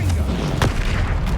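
Confringo fire spell blast in the video game Hogwarts Legacy, a single short booming burst midway through a rumbling low-frequency background of game ambience.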